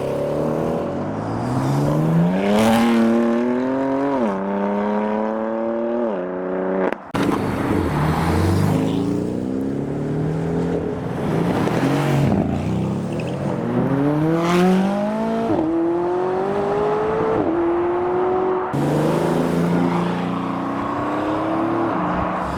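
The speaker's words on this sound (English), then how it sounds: "So that was the convoy, and more cars are leaving now" Supercars in a convoy leave a car event one after another, including a Range Rover SVR and a BMW M3. Loud engines rev and accelerate past in a series of rising, gear-shifting pulls with a sharp pop partway through.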